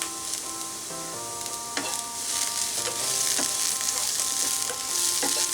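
Potatoes fry in a pan as mint leaves are tossed in, a steady loud sizzle with occasional utensil scrapes and clinks, while soft background music plays.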